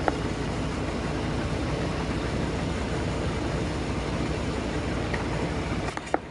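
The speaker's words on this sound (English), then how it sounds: "It's a nice tractor, combine." A combine harvester with a 20 to 25 foot header runs at a steady, loud drone and rumble, unbroken for several seconds, with a couple of brief clicks near the end.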